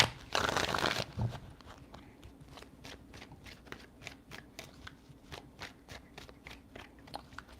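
Tarot cards are shuffled close by, a brief burst of riffling followed by a steady series of soft, crisp card snaps and taps repeating at an even pace.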